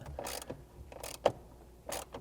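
A socket wrench's ratchet clicks in short, separated bursts while a bolt on a Jeep JK overhead MOLLE panel is tightened, close and fairly quiet with no talking.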